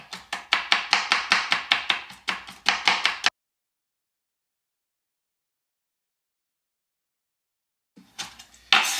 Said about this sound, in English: it's called julienne, very thinly, this celeriac